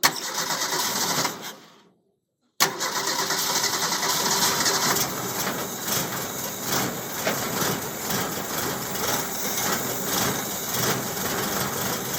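A 1929 Ford Model A Roadster Pickup's fuel pump gives a steady mechanical whirring and ticking that runs continuously, broken by a short silent gap near the start before resuming at the same level.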